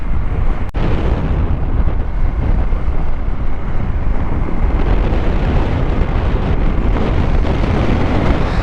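Cold wind blowing hard across an open mountain road beside a river, a steady loud roar buffeting the microphone throughout, with a single sharp click near the start.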